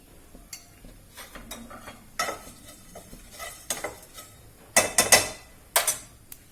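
Cumin and black cumin seeds frying lightly in a pan, with a soft sizzle under intermittent clinks and scrapes of a spoon stirring against the pan, a few louder clatters near the end.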